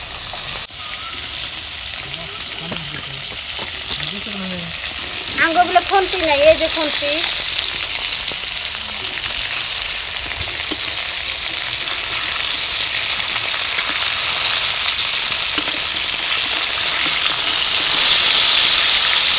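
Rohu fish fries in a pan with a loud, continuous sizzle and crackle of hot oil close up, while a voice talks briefly over it.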